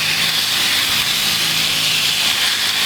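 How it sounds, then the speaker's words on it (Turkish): Half a kilo of ground beef sizzles steadily in a preheated cast iron pan, a continuous loud hiss held evenly throughout. "Döküm tavamız 2-3 dakika boyunca ısındı. Yarım kilo kıymamızı ekliyoruz."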